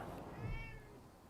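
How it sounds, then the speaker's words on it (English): A cat in the video game Wasteland 3 gives a single short, soft meow, faint and close, over a low background drone with no talk. "Meow. The cat slinks around her ankles."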